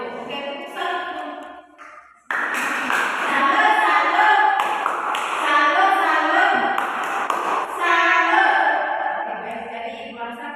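Elementary schoolchildren in a classroom perform the rhythmic 'tepuk salut' clapping routine, chanting together in unison over patterned claps after a brief pause, loud and close.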